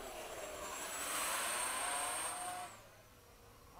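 An FMS 70mm F/A-18 electric ducted-fan model jet flying at sunset at Oakdale, its faint whooshing whine swelling as it passes and then dropping in pitch as it moves away.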